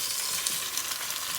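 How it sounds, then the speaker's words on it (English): Chicken pieces for a stew sizzle and fry in a pot, a steady, fairly loud broadband crackle with no talking over it. "you can hear it sizzling already"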